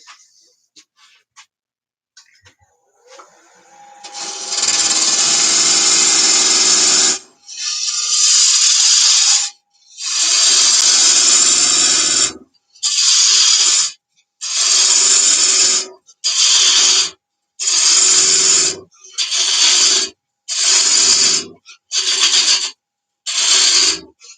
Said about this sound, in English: we can go ahead and part this off. Get our thin parting tool back out here.